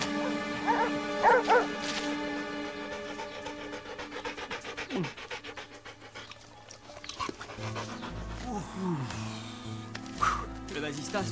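Several dogs bark, yip and pant over a stretch of about eleven seconds, mixed with cartoon music and sound effects, at moderate loudness with busy layering throughout.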